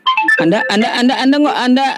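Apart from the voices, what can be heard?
telephone ringtone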